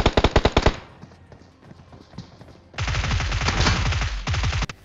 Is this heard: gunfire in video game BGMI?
yes